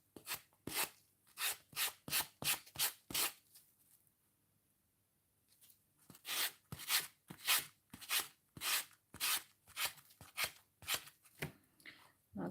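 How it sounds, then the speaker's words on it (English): Decoupage coaster edge being sanded by hand, a close, steady run of rhythmic rasping strokes with a short pause partway through, no talk. "hopefully, this will sand off without any problems"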